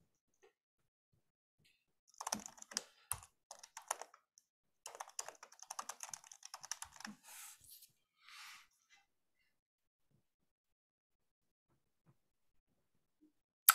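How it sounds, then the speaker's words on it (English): Bursts of quick typing on a computer keyboard during an online meeting, clicking in uneven clusters with short pauses between, close and clear, then quiet near the end. "I'm having a hard time typing today."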